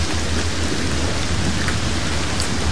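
Steady, heavy rain in LEGO Fortnite hisses continuously, a dense even downpour during a storm, with no voices and no letup.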